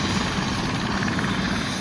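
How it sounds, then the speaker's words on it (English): Steady, loud Eurocopter helicopter rotor and engine drone held close by, a continuous thrumming roar with no talk over it, recorded in Utah. "these Euro choppers are really,"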